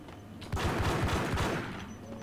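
Rapid bursts of gunfire as shots are put into doors in the PC game Max Payne, a loud close volley of several quick shots lasting about a second with game ambience before and after.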